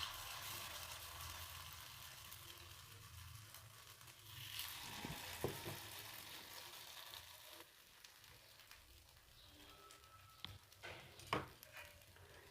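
Soft, quiet sizzle of semolina appam batter hitting a hot pan, with a few faint clinks and scraping stirs rising near the end.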